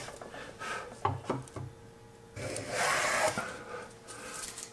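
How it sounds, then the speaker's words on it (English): Hand plane cutting a groove along a wooden workpiece, with repeated scraping, rasping strokes at close range; a few sharp knocks punctuate the passes and one longer, louder shaving stroke comes near the end. "I just need to keep planing until I get to my depth"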